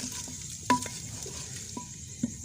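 Mutton with tomatoes and spices frying in a pot, a soft steady sizzle with a few distinct metallic clinks and scrapes of a ladle stirring, fairly quiet and close.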